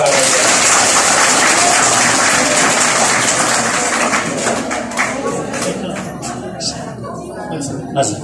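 A school audience at a motivational class gives loud, dense applause welcoming a retired teacher, the clapping strong at first and gradually thinning into scattered claps.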